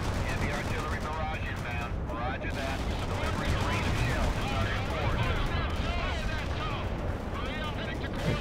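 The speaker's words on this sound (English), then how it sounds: "In fact, I'm gonna fire a bunch more artillery over here." Artillery barrages in the World in Conflict: Soviet Assault strategy game, a dense, continuous rumble of overlapping booms and blasts under a busy game soundscape, with game voices mixed in.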